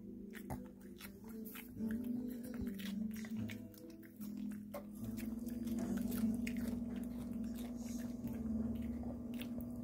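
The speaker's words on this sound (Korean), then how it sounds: "잘 먹는다 우리 행복" A Shih Tzu chewing pieces of bell pepper, with wet, crunchy bites and squishy mastication close up, mixed with soft handling noises and no spoken words.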